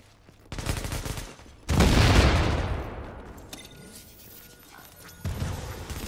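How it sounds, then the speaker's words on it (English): Gunfire in a multiplayer online shooter game: a loud close burst of rapid shots, then a heavy blast that fades into a rumbling tail, followed by another short burst near the end. "Who the fuck is shooting at me?"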